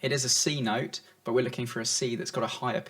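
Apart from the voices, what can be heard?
No distinct noise like a dog, phone or traffic.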